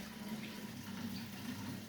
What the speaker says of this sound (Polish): Woda przelewa się i słychać mocno tutaj hałas.